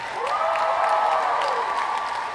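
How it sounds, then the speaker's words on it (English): Lively crowd at a Harry Potter celebration event applauding and cheering, a steady wash of clapping with a rising whistle-like cheer, loud and close, no talk over it. "Make some noise for Harry Potter."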